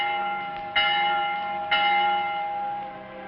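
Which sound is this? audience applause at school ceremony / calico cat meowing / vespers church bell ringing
vespers church bell ringing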